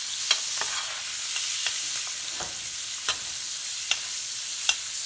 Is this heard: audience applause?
no